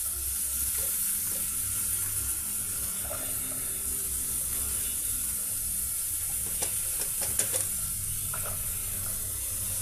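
Pieces of large onion hitting hot cooking oil set off a steady, close sizzle with faint scraping and stirring clicks running underneath.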